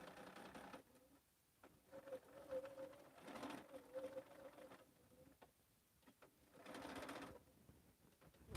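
A sewing machine stitches through a thick, bulky quilt seam in short bursts, its quiet whirring runs starting and stopping with pauses between, faint and close.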